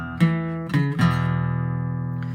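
An electric guitar on its fourth string plays two quick short notes, then a third that rings out as a long sustained tone, clean and close, fading slowly with no talking.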